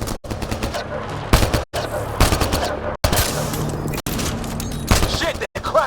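Rapid enemy gunfire in the sci-fi shooter Mass Effect Andromeda, dense automatic bursts and impacts cut by brief silences, with voices talking over the combat.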